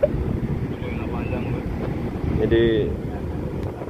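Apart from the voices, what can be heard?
wind blowing at a boat harbor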